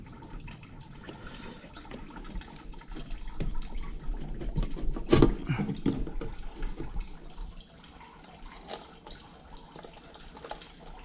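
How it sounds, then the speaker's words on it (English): Coolant draining from the engine of a 1981 diesel Rabbit during a head gasket job, a steady trickling and splashing of liquid that swells midway with a brief louder splash, fairly faint and continuous. "Got the coolant draining down below."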